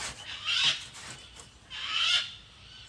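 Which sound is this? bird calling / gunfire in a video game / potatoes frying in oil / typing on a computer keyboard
bird calling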